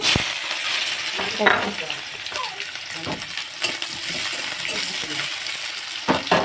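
Onions and dried red chillies frying in a pan for a potato bhaji, with close, loud sizzling and crackling punctuated by clinks and scrapes of stirring.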